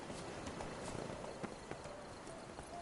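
A horse named Poppy in the video game Witcher 3 clops along with soft, uneven hoofbeats, quiet and low against a faint steady background.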